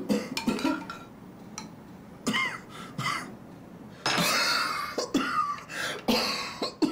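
A run of sharp, harsh coughs and throat clearing comes in separate bursts, some loud and close, with faint clinks of dishes and cutlery between them.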